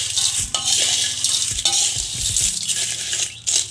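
Eggshells being dry-roasted in a hot pan, with a utensil scraping and clinking against the metal in an irregular stirring rhythm, close and fairly loud with a dry rattling crunch.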